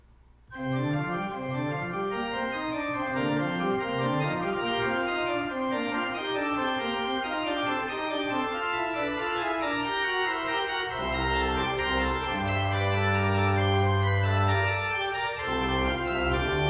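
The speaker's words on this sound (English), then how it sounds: "The excited swirling patterns in manuals are soon joined by a clarion call in the pedal." A pipe organ plays a toccata on the chorale Wachet auf, ruft uns die Stimme. Fast swirling figures run on the manuals, then a loud, sustained low pedal call enters beneath them and fills the room, with no voices.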